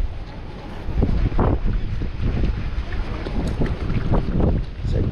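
Strong wind buffets the microphone outdoors on a fishing trip, a loud, close roar with rolling gusts that swell and ease throughout.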